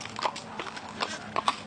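Horse hooves clip-clop at a walk as a horse pulls a period or replica late-19th-century carriage in a driving competition, a steady run of moderately loud hoof strikes with no talk over them.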